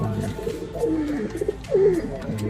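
Pigeons coo softly in a home-made loft, with a few low rolling calls and one fuller coo near the end, close by and mostly alone.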